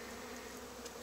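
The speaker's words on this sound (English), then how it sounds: "try to encourage these bees off of that bottom board" Bees buzz steadily around an open hive box on a bottom board during an early-season inspection, a close, even insect drone filling the short moment without any voices.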